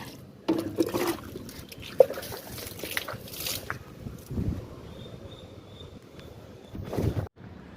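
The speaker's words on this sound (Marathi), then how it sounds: "आपल्या झाडांना पाणी घालून झालं" Water poured onto small garden plants such as a newly planted tulsi and young lemon trees, heard as faint, intermittent trickling and dripping with a few soft splashes and pauses, fairly close and without speech.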